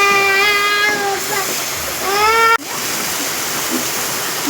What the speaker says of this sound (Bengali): সামান্য একটু আমি জল দেব।